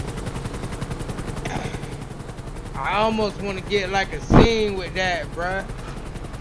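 A helicopter's rhythmic rotor chop runs steadily through a GTA V game scene, a low pulsing drone beneath casual male chatter.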